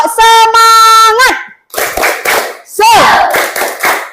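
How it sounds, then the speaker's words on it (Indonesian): Children in an elementary school classroom doing a rhythmic spirit clap, short bursts of hand claps mixed with loud chanting voices, close and energetic. "Kita tepuk semangat biar semangat ya."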